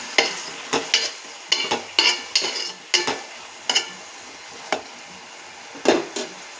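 A spoon scrapes and stirs raw prawns and cut tomato pieces in a pan, giving a dozen or so sharp, irregular clacks over a faint sizzle, close and distinct with no talking.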